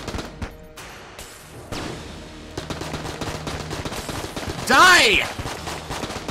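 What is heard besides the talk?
AK assault rifle gunfire in the video game Enter The Gungeon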